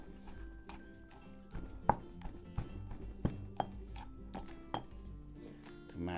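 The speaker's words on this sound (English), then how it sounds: "To mash all those ingredients." Raw green bean salad ingredients being mashed for a Thai-style dish: a series of irregular dull knocks and thuds, spaced apart, quiet and close.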